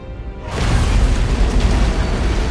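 An antimatter charge detonates aboard a ship in Halo: Combat Evolved, a sudden loud boom that swells into a sustained, rumbling roar of blast and debris, close and unbroken to the end.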